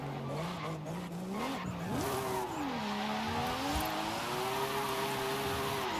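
A car in Forza Horizon 5 cruises through a custom-built city street and parking garage, its engine note rising and settling through gear changes with faint tire squeal, steady and close with no talking.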